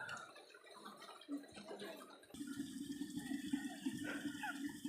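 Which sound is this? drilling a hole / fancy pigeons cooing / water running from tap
water running from tap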